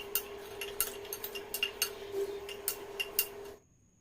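A spoon clinks and scrapes against a bowl in a quick irregular rhythm as lemon pickle pieces are mixed with salt and roasted spice powder, close and fairly soft, then stopping abruptly.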